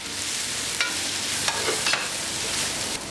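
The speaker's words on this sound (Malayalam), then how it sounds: "ഇതിലേക്ക് എടുത്തു വെച്ചിരിക്കുന്ന പൊടികളെല്ലാം ചേർത്ത് വഴറ്റി കൊടുക്കാം" Spice powders are sautéed with onion, coriander and mint leaves in a pan for a stuffed chicken dish. A dense frying hiss runs throughout, with a few scraping stirs of a utensil and no talk.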